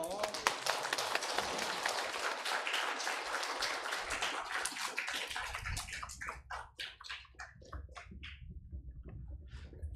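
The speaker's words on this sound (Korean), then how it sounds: "뜨거운 박수로서" Warm applause from a church congregation during a Sunday morning service, a dense steady clatter of many hands that thins into scattered individual claps near the end.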